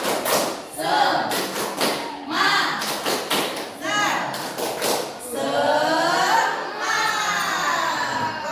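A group of children does the rhythmic 'tepuk semangat' clap in a school session, sharp clustered claps in short bursts between loud shouted chanting from the group.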